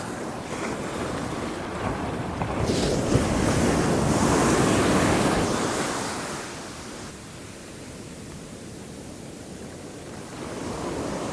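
Pacific ocean surf rolls and crashes in a steady roar, swelling louder midway, with wind buffeting the microphone throughout.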